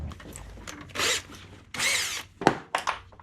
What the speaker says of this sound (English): Drill right into that.